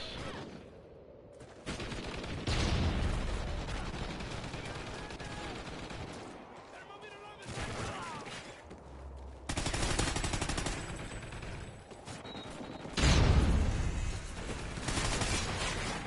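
Gunfire bursts in Call of Duty: Ghosts team deathmatch, rapid automatic volleys arriving in several loud clusters across the stretch, layered with game effects and some voice.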